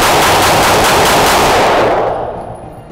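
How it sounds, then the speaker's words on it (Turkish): A Sarsılmaz SAR9 pistol emptying a full magazine in rapid, loud, close shots at a factory test range, the string of gunfire running for about two seconds before fading into ringing quiet. "Bir şarjör atış geliyor."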